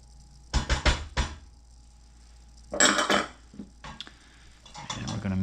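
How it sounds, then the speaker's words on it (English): Macaroni and cheese with melting American cheese is stirred in a pot, with a few separate bursts of knocking and scraping of a utensil against the metal, separated by quiet pauses. "We're going to mix this until the American cheese is fully melted and incorporated."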